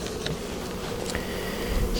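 Honey bees buzz steadily around a hive during an early spring colony check, a continuous close hum with no voices over it.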